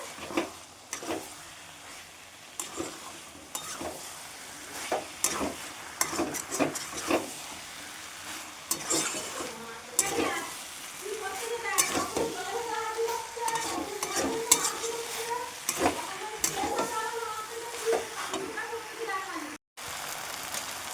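Boiled chickpeas stir-fried in goat fat in a pan, with steady sizzling and repeated stirring scrapes throughout, close and moderately loud, with a voice talking intermittently over it.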